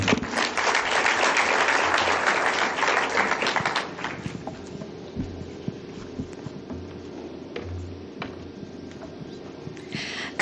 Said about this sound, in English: let's give the chairman another warm round of applause